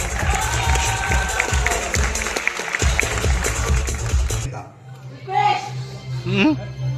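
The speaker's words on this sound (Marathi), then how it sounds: "एकदा जोरदार टाळ्या होऊन जाते" Audience applause and cheering from a crowd at an award ceremony honouring a best actress, a broad dense wash of clapping under loud talk, cutting off about two-thirds through to quieter voices.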